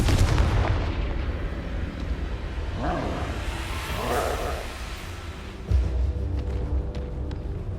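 Confringo fire spell cast in Hogwarts Legacy, heavy booming blasts with rumbling fiery whooshes and a sharp burst near the end, loud and dense throughout.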